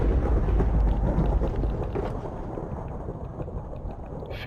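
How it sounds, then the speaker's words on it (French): Thunderstorm in the video game Minecraft: a loud, deep rumble of thunder fills the opening seconds, then slowly fades into a steady wash of rain-like noise, with no voices. "Il fait littéralement de l'orage."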